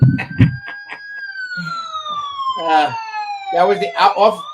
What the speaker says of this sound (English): the ambulance was there waiting for him